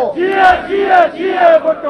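A large crowd at a political election campaign rally in Gilgit-Baltistan chants a slogan together, loud and close, rising and falling in rhythmic repeated phrases.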